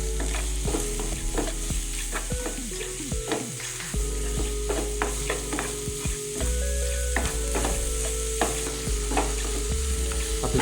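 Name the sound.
stir-frying vegetable filling for Sri Lankan veg roti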